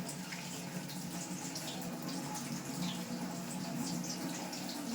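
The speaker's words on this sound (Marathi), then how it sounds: "चला मग आता आपण ही पानं आणि ॲलोवेरा स्वच्छ धुवून घेऊया" Aloe vera and leaves washed under running tap water, a steady hissing stream splashing over them, close and even for the whole stretch with faint handling noises and no talk.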